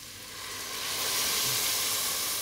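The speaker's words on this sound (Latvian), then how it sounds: "Un tad lejam klāt ūdeni." Water poured into a cooking pot of vegetables for tomato soup, a steady hissing rush that swells after the first moment and holds at moderate loudness with no voices.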